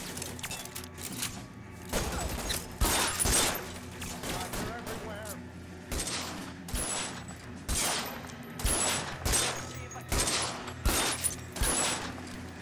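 Repeated gunfire from a shootout in LA Noire: sharp shots in uneven bursts and volleys, loud and close, over a steady low game hum.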